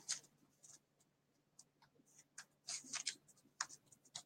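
A deck of oracle or tarot cards being shuffled by hand, heard as faint, close, irregular bursts of soft papery rustling and light flicks, with no talking.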